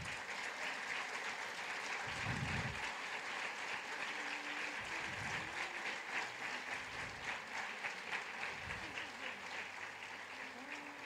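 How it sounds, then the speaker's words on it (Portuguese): Church congregation applauding together: a dense, sustained wash of clapping from many hands, fairly distant and even throughout, with a few low thumps and faint voices underneath. "Vamos aplaudir a Jesus."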